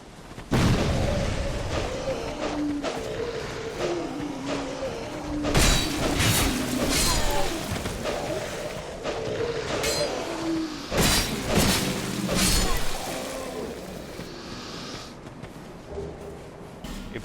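Bombs burst in a dark fantasy action video game, several heavy booms and shattering impacts spaced irregularly over a rumbling backdrop, with a few clinks and occasional game sounds.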